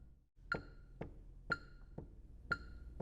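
A marimba mallet strikes the bars in steady, evenly spaced eighth notes, clear and close, with a bright ringing attack on each hit.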